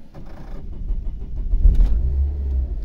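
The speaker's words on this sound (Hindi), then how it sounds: "इग्निशन ऑन किया, अब गाड़ी चालू कर रहा हूँ," A Renault Duster engine cranks and catches after an alternator repair and a flat battery, a low rumble rising into a steady idle close by.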